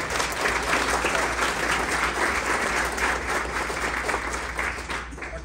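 Dense, sustained applause from a seated audience at an evening nurses' health care event, steady and fairly loud throughout before easing slightly at the end.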